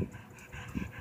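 A five-month-old pit bull puppy in a park gives short yelping barks, with a couple of brief bursts near the end over quiet outdoor background.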